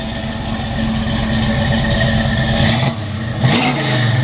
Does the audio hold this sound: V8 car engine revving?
yes